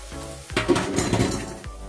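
Three garlic cloves drop into a hot pan for a spinach samosa filling, giving a short metallic clatter followed by a brief, close sizzle with no talking.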